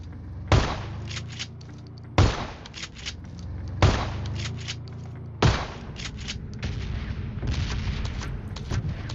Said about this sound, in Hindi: मैंने बोला भाई अब तो शॉर्ट गन से ही मारेंगे